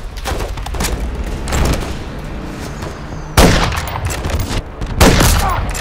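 Sustained gunfire and heavy explosive RPG blasts in Call of Duty Modern Warfare III on a snowy frozen tundra battlefield: loud dense volleys and booms, with sharp bursts hitting around the middle and again near the end, while a voice speaks briefly.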